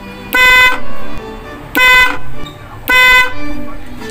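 Motorcycle horn wired through a relay blares three loud, close honks of about half a second each, separated by short pauses filled with quieter handling noise.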